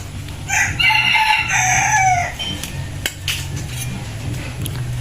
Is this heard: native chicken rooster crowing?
yes